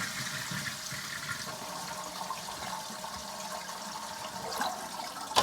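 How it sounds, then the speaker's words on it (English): A household toilet flushes with a steady, close rush and swirl of water that fills the whole stretch, then trickles as the tank refills. "On this one, just flush the toilet."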